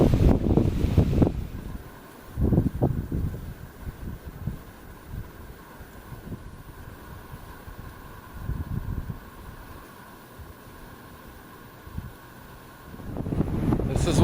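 Wind blowing across coastal sand dunes, buffeting the microphone in loud gusts at the start and end with rough rumbling bursts in between over a steady hiss.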